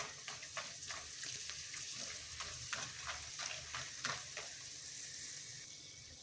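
Rice vadiyalu sizzle and crackle in hot oil, with a steady, dense frying hiss broken by soft scraping stirs at a moderate, close-up level.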